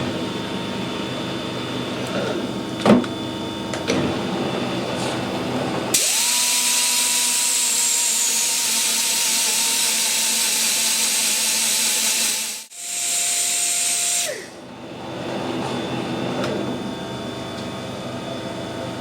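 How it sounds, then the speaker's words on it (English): A metal lathe runs nearby with its gears engaged, giving a steady whirring hum. The machine stops and starts again partway through, with a brief drop and a restart in its tone. "we'll run the lathe faster"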